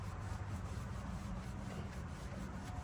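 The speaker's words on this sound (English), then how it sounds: "get the residual polish off. Not really worried about really scrubbing the wheel," A terry towel wipes leftover polish off a semi truck wheel in a shop, giving a steady, close, continuous rubbing swish with soft rhythmic strokes and no talking.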